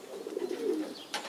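Racing pigeons coo softly and close by in a short, low, warbling phrase, followed by a brief faint chirp.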